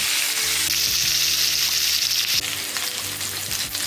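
Onion and bell pepper sizzle loudly in a hot pan, a steady close frying hiss with occasional stirring scrapes.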